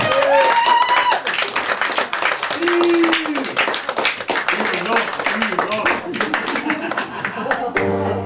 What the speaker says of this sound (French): On applaudit très fort, Cathy!